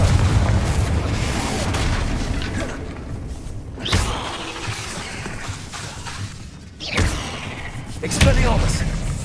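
Confringo blasting spell from Hogwarts Legacy bursting in a few loud booming explosions with sharp impacts, close and heavy over a busy game soundscape, with a voice calling out spells.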